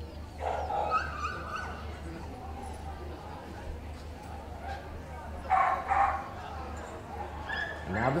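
Dogs at a terrier group show barking in short, sharp bursts and yips over a low steady crowd murmur, a couple of clear outbursts spaced several seconds apart, with a voice speaking faintly in the background.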